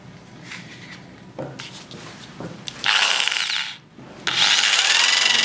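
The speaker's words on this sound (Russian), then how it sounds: "пока я там тестирую дрель" An Intertool impact drill with a 20 mm bit whines and grinds through wood in loud bursts, stopping briefly between runs, with scraping handling sounds at the start.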